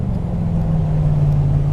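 A Ford Bronco engine at full throttle while climbing, heard as a steady, loud, low droning rumble that holds even throughout, with no speech.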